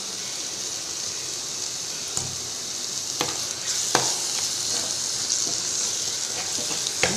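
Ground tomato paste sautéing in a pan over onions for paneer butter masala, giving a steady close sizzle with occasional scraping stir strokes and small spatula taps, no talking.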